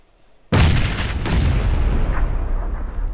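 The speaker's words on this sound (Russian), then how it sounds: "Граната, осторожно." A grenade goes off in the battle royale game PUBG on the Sanhok map, a sudden loud close blast followed by a second crack and a long rumbling roar that slowly fades.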